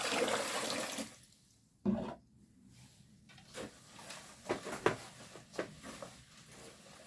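Water poured into caustic soda while mixing a batch of SDBS liquid detergent: a splashing pour opens the clip, then quieter sporadic sloshes and knocks follow, fairly close.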